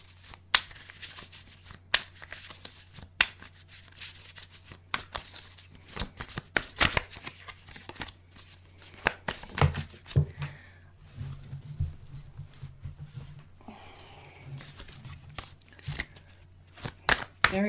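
Tarot cards are shuffled by hand, giving repeated crisp riffling and flicking bursts in an irregular rhythm, close and fairly quiet, with occasional soft speech in between.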